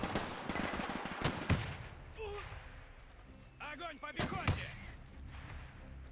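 Mortar and gunfire in the Men of War II World War combat game, sharp distant booms and cracks at irregular intervals amid battlefield noise, with brief faint shouts from soldiers in between.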